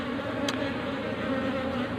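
Bees from a wild colony buzz in a steady, dense drone during a honey harvest among rocks. The hum stays close and continuous, with one brief sharper tick partway through.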